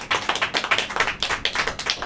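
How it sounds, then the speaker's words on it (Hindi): A church congregation claps in a steady, quick rhythm during worship, loud and close, with each clap burst evenly spaced and no talking over it. "आइए हम तालियों के साथ प्रभु यीशु मसीह का स्वागत करें।"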